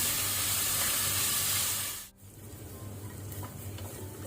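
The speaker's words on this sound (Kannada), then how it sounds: "ಈಗ ನಾವು ಈರುಳ್ಳಿಯನ್ನು ಕಲರ್ ಚೇಂಜ್ ಆಗೋ ತನಕ ಫ್ರೈ ಮಾಡ್ಕೊಳ್ಳುವ" Onions frying in a pan for methi mutton give a bright hissing sizzle that drops sharply to a softer crackle after about two seconds, close and unbroken by voices.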